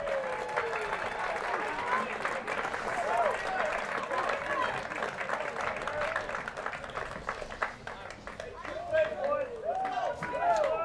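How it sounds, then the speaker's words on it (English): Crowd at a high school varsity boys soccer senior night applauding from the stands outdoors, moderate and spread out, with voices and cheers mixed in. "how about a nice round of applause for the seniors on both teams."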